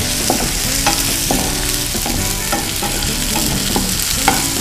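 Tomatoes fry in a hot pan with a steady sizzle, while repeated scraping and clanking stir strokes come close and loud throughout.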